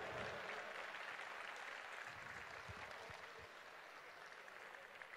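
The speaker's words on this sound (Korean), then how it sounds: "큰 박수 다시 한번 부탁드리겠습니다" An audience at a Korean presidential campaign committee launch ceremony applauds, with a steady wash of clapping that stays quiet and distant and eases slightly toward the end.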